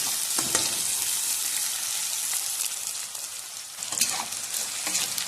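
Chopped onions frying in a pan, a steady close sizzle with occasional stirring scrapes and crackles running throughout without any talk.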